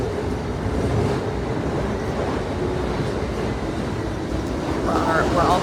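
Interior of a moving train on a high-speed run, a steady loud rumble and rolling rattle filling the car continuously, with a voice briefly audible near the end.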